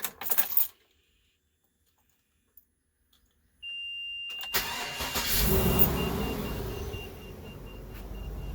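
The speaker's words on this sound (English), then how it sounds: "I'm gonna start the engine and we should see about 80 or something amps cranking in there." A vehicle engine cranks and catches after a quiet pause, then settles into a steady idle; the vehicle has lithium Battle Born batteries installed, and a thin electronic tone rings briefly as it starts.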